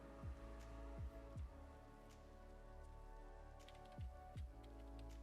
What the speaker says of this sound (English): I wish it were not raining right now.